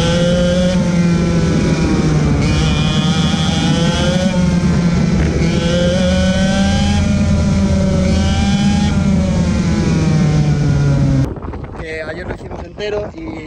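Go-kart engines drone loudly and steadily on a karting circuit, a junior kart among them, the pitch rising and falling as they lap close by with wind buffeting, then dropping away abruptly near the end.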